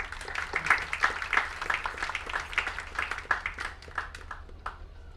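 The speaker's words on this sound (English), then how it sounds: "A huge applause for him." A Mumbai book launch crowd claps as a police commissioner is invited on stage, a light, fairly quiet round of individual hand claps that gradually tapers off.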